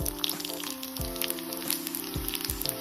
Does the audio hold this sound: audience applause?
no